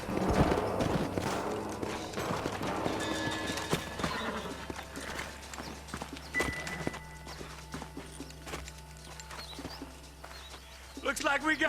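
Horses gallop and clop in Red Dead Redemption, with a loud neigh as riders pull up, hoofbeats fading into quieter ambience and scattered game dialogue.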